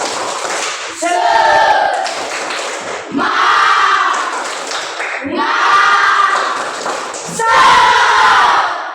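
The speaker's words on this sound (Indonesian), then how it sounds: "kita sama-sama dulu tepuk semangat" A school group performs a rhythmic spirit clap, loud bursts of unison chanting and clapping in several repeated phrases, close and energetic, with short pauses between rounds.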